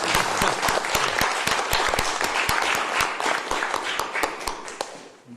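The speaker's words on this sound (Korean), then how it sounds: "환영의 박수부터 한번 치고 시작하겠습니다" Welcoming applause from an audience at the Kwanhun Club forum in Korea, a dense, steady wash of many hands clapping at close range that holds evenly for about five seconds before tapering slightly at the end.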